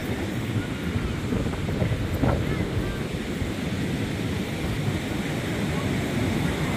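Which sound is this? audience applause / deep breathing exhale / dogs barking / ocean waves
ocean waves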